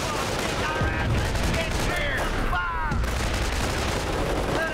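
Bombardment and gunfire in the World War II strategy game Company of Heroes during the assault on Hill 192, a dense continuous roar of shellfire and rattling guns with whistling rounds overhead, loud and unbroken.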